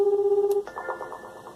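A telephone keypad tone from pressing the pound key during a voicemail prompt: one steady beep lasting about half a second, then fainter phone-line sounds.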